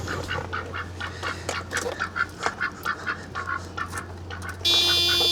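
A duck quacks in a steady run of close, fairly loud calls beside a 1995 Mercedes E320 wagon, over a low constant hum, ending with a sudden bright tone.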